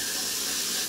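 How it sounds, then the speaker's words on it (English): A short, close hiss of Got To Be hair glue sprayed from an aerosol can onto a hairbrush, one continuous burst lasting about a second and fading at the end. "I'm gonna use this Got To Be glue, and I'm gonna spray it on this brush."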